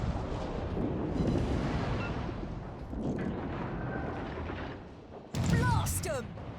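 Warship naval gunfire in a video game: deep booming cannon blasts rolling over continuous rumble, with a sharp, louder explosion burst near the end.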